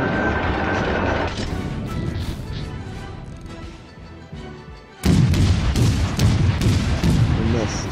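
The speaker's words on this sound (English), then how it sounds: "We missed all the shots." Battleship gunfire in the naval combat game World of Warships: Legends, with the Queen Elizabeth in play: loud booming salvos and crashing impacts, a dense burst early and another heavy barrage starting midway, amid game effects.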